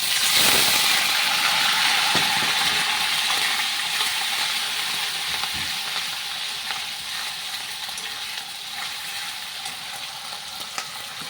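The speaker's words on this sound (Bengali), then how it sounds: "মশলাটা একটু ভেজে নিব।" Spice paste with dried chillies and whole cumin frying in hot oil in a pan, a steady, close hiss and sizzle throughout with faint scraping stirs, easing off slightly toward the end.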